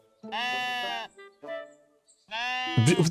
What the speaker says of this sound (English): You can pet the sheep.